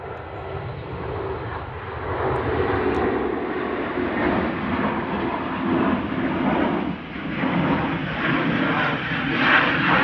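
Jet airliner departing Manchester Airport, a loud sustained engine roar with rushing, rumbling texture holding steady throughout in windy open air.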